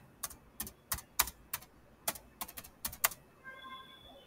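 Typing on a computer keyboard: about a dozen crisp, separate key clicks in an uneven rhythm, close and fairly quiet, followed by a faint tonal beep.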